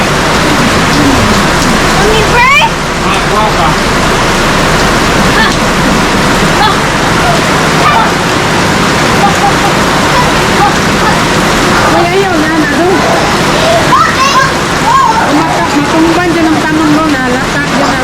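Steady heavy rain pours down with a constant wash of noise, while children bathing and playing in the rain shout and chatter playfully over it.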